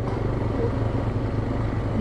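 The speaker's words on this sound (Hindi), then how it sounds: "ये भी वाटर स्ट्रीम के ऊपर ही हम बाइक चला रहे हैं।" Motorcycle ridden over a shallow water stream on a rainy mountain trail, a steady close engine drone with low clattering and rough rumble throughout, no talk.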